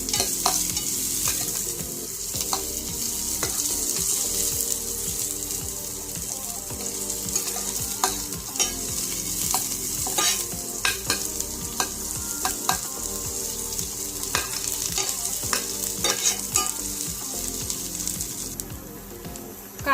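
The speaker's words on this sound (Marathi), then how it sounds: "कांदा छान सोनेरी रंगावर परतून घ्या।" Chopped onion sautés in a pan for a guar (cluster bean) curry, giving a steady close-up sizzle with frequent clicks and scrapes of a spatula stirring throughout.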